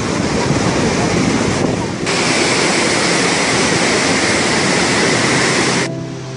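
Thunderous, unbroken roar of Gokak Falls, the giant waterfall where the Ghataprabha river plunges into a gorge in Belgaum district, a loud broadband wash of falling water with a brief dip near the start and end.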